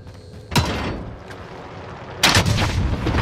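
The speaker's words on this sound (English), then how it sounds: "Precision airstrike missed." Precision airstrike explosions in Call of Duty Warzone, two heavy booming blasts roughly two seconds apart, loud and close with no talk over them.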